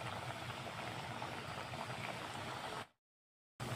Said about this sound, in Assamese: তেলত দি আছোঁ এটা এটাকৈ গজা এনেকৈ দি আছোঁ